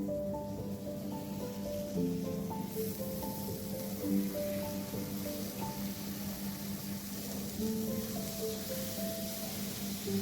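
Drained lentils hit hot fried spices in a pan, producing a continuous close sizzle and hiss with a steady low crackle, unchanging in level throughout; no voices.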